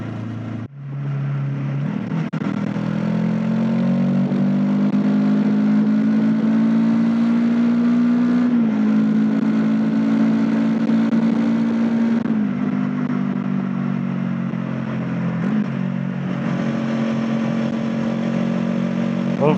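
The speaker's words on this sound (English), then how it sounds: "Love the exhaust note on this bike." Kawasaki NX500 motorcycle engine and exhaust drone steadily while riding, a close, continuous note with rising pitch through each gear and brief dips at the shifts, wind rushing underneath.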